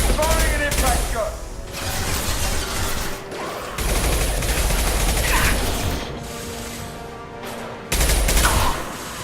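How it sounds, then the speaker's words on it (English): Impact gun fire in the video game Mass Effect 2, with loud bursts of mechanical, rattling gunfire and ratcheting clatter in several sustained stretches, and brief gaps between volleys. "Firing an impact gun."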